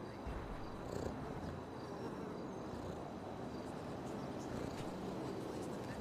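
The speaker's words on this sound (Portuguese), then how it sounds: "Ele ronrona!" A sleeping cat purrs in a steady, soft continuous rumble, close by and quiet, with faint background noise throughout.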